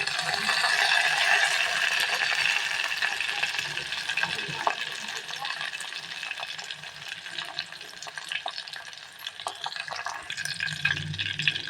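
Garlic paste, soaked green chillies and curry leaves sizzle steadily in hot oil in a pan, a continuous bright crackle with occasional utensil clinks and stirring scrapes.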